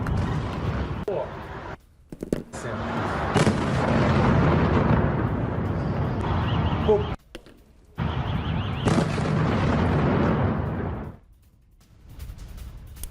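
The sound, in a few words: Russian missile strikes and explosions on Kyiv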